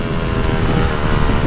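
A loud, rough modified exhaust on a Yamaha MT-15 motorcycle roars continuously close by, a dense rumbling drone with no pauses and no voices.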